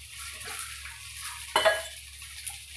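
Sabudana (tapioca pearls) tipped into a pan of cooked potato and stirred, giving soft scraping and rustling with a sharper clatter midway and a clink at the end, close and without talk.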